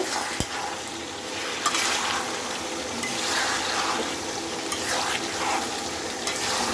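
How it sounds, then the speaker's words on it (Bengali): Pre-fried chicken pieces going into a masala gravy and being stirred in a pan, a continuous close sizzle with wet stirring and scraping, a few sharp clicks of a spoon against the pan. "এখন আমি ভেজে রাখা চিকেনগুলি দিয়ে দেব, দিয়ে আমি এটাকে ভালো করে মিক্স করব।"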